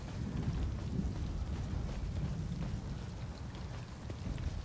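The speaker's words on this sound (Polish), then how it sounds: "No to jeszcze piorun." Steady heavy rain hisses and patters over low rumbling thunder in The Elder Scrolls Online, a continuous dense wash of storm sound with no voices.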